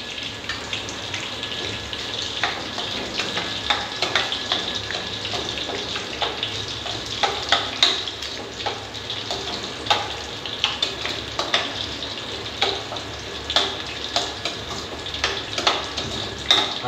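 Bay leaves fry in hot oil for sukka chicken, giving a dense, continuous sizzle with light stirring clicks and scrapes throughout.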